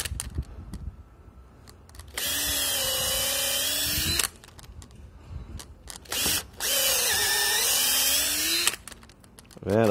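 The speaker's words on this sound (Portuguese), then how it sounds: "se eu não me engano essa broca aqui é 5 milímetros" A power drill with a 5 mm bit bores into wooden roof rafters in two loud bursts of about two seconds each, its whine rising and dipping in pitch, separated by quieter handling knocks and clicks.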